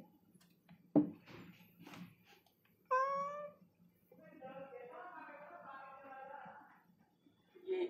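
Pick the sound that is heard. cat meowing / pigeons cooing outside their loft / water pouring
cat meowing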